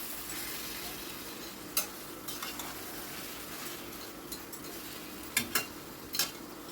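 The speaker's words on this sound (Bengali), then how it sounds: "অনবরত নাড়াচাড়া করে মাংসটাকে ভালো করে কষিয়ে নিতে হবে মশলার সাথে" Mutton pieces fry with spices in a pan under a steady close sizzle, while a spoon stirs and scrapes against the metal in scattered clinks and knocks. No one speaks.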